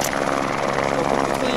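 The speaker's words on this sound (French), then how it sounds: "il regarde l'hélico du SAF" Rescue helicopter flying over a ski slope in rough snow conditions, a steady close rotor and engine drone filling the whole moment with no break.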